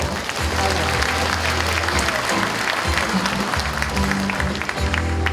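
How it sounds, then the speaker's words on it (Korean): An audience at a Uljin county talk concert event breaks into steady, loud applause that fills the space continuously throughout, with a faint voice underneath. "큰 박수 부탁드립니다"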